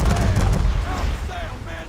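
Ship cannons firing in Assassin's Creed 3 during a naval battle, a rapid burst of heavy booming shots in close succession, loud and near, with some ringing tones and crackle behind them.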